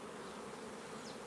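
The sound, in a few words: honeybees buzzing around a colony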